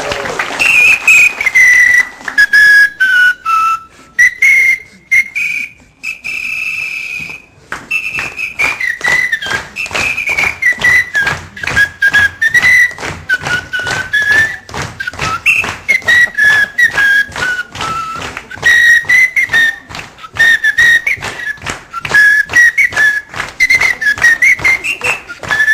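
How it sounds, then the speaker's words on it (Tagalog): A security guard whistles through a small whistle, sliding up and down a scale of clear high tones in a long continuous melody, loud and close, with rhythmic tapping or clapping underneath. "kayang magskala at kayang gumawa ng ilang mga tono gamit ang kanyang pito"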